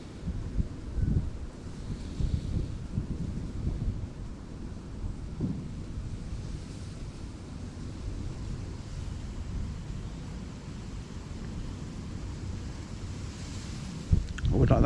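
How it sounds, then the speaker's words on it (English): Steady wind buffets an outdoor spot on the River Thames during a winter club fishing match, a continuous low rumble of gusts over the microphone with a brief louder burst near the end. "I would like that wind to stop,"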